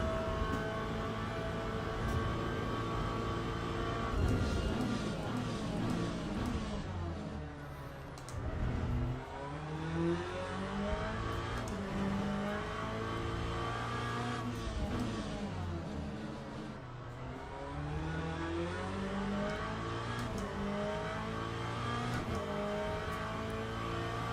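A race car engine in Le Mans Ultimate holds high gears, droning loud and steady with rising and falling pitch sweeps through shifts, continuous for the whole stretch without speech.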